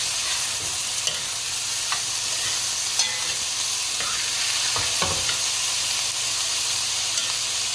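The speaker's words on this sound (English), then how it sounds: "I'm just frying it maybe just for 2 or 3 minutes and let the aroma come out from it." Steady sizzling and hiss of seasonings frying in a pot for vegetarian Trinidad calaloo, with occasional stirring clicks and scrapes, close and continuous throughout.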